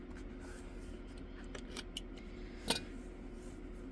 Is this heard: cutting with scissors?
yes